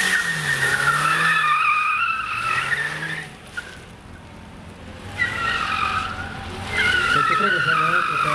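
A car skids repeatedly on slippery asphalt with reduced grip, its tires squealing in long, loud wavering bursts separated by a quieter pause, with engine noise beneath.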